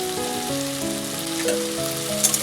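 Turmeric, red chili and cumin powders sizzling in a hot pan, a steady bright hiss running under sustained tonal music throughout.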